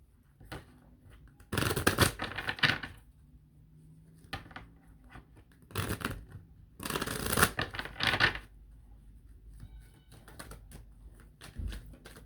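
Deck of oracle cards being shuffled, three distinct bursts of crisp riffling and flapping separated by quieter pauses, with light card handling taps in between.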